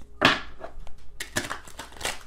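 A deck of tarot cards is shuffled during a reading, giving a close burst of crisp riffling and rustling, then several quicker papery flutters, with no talk over it.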